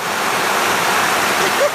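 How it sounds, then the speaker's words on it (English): Still lake water spills over a small waterfall into a whirlpool, a steady, close, loud broadband rush that holds unbroken throughout with no speech. "It's down a waterfall."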